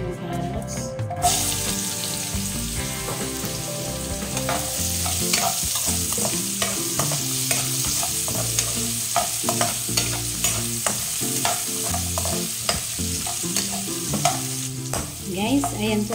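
Carrots frying in a pan with minced chicken and potatoes, stirred with a utensil: continuous sizzle under repeated scraping and clinking strokes in an irregular rhythm, close and moderately loud.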